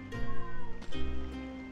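A cat meows loudly and close by in two drawn-out, wavering calls separated by a brief pause.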